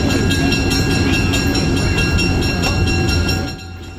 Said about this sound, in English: The way back is a lot faster due to the locomotive not having to push.